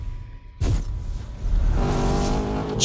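A rally car engine in the Colin McRae: DiRT 2 video game starts up with a sudden burst, then idles and revs to a steady, rising drone, loud and close.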